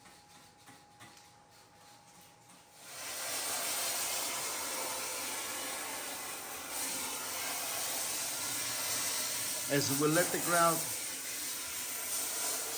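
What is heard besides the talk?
steam cleaner hissing on bathroom tiles and grout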